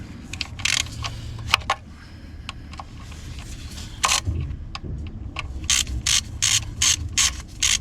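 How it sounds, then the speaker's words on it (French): Ratchet fitted with a Torx 30 bit loosening oil pan bolts on an Audi S3 8V, giving bursts of sharp clicking pawl sounds, some short and isolated, others in quick repeated runs, close and clear over a quiet background. "Et maintenant on va aller desserrer tous les boulons un par un"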